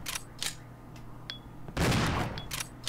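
Several sharp shots crack out in quick succession in the video game Resident Evil 0 HD, followed by a louder, longer burst of gunfire with short metallic pings.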